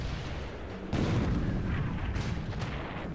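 Naval gunfire from the cruiser Java in the War in the Pacific game: a sudden heavy boom hits after about a second, and a dense, rumbling roar of continued firing follows, with sharper cracks landing near the end.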